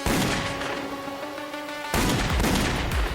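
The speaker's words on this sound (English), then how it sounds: "The next second, gunshots." A rapid burst of police gunfire in a film, then a steady tone, then another sharp volley of shots cracking close by.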